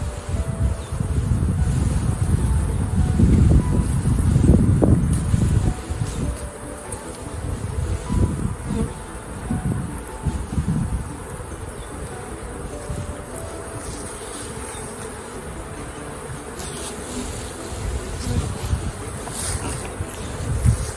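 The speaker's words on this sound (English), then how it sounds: "I brush these bees off." A honey bee swarm buzzes steadily and loudly up close outdoors, with a denser roaring burst early on and brushing sounds as the bees are swept off a thorny tree.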